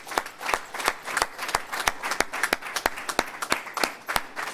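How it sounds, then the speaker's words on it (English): Applause at a religious lecture, with sharp, distinct hand claps in a fairly regular rhythm, close and fairly loud, suggesting a smaller group clapping together rather than a dense crowd roar. "Give yourselves a warm round of applause."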